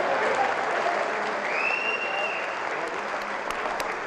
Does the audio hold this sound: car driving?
no